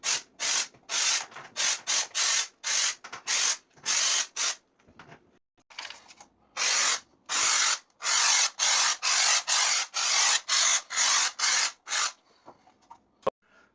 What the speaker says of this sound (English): you want to do a test spray on anything that you got around.